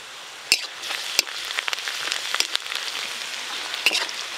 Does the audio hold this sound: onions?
yes